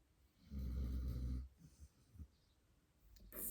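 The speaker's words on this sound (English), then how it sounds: "Sorry about the snoring. So loud." Loud, close snoring: one long rumbling snore, then softer irregular snorts and breaths, before another heavy breath at the end.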